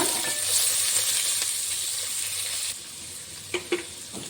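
Onions frying in a pan with mint and coriander for pulav, a steady close hiss and crackle with a brief lull near the end and a couple of small clinks.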